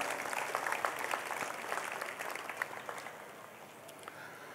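Audience applause at a church celebration honouring Bishop Pola Anthony, a dense steady patter of many hands clapping that carries on throughout and eases slightly toward the end.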